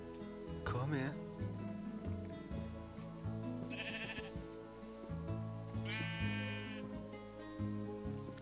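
Sheep in Minecraft give several distinct bleats, including a long wavering one, under steady talking and background game music.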